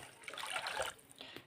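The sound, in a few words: pouring a glass of water into jaggery syrup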